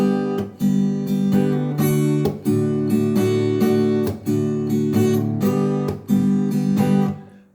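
Strummed guitar chords play the tune Los Lappie in a steady, rhythmic pattern with sharp regular strokes and ringing chords, close and loud, with no talk over it.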